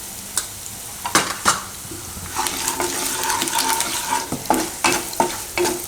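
Salt and oil stirred in a hot pan while making kakdi poha, a soft sizzle under scraping and clinking of a spoon against the pan, close and continuous with irregular knocks.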